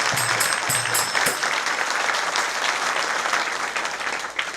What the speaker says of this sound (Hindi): बजाओ एक ताली जोर से।